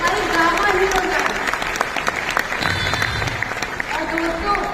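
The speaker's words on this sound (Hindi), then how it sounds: "आप सबके लिए तालियां होनी चाहिए" An event audience in Nagpur applauds steadily, a dense wash of clapping with a few sharper claps, while a voice speaks over it through the opening and closing moments.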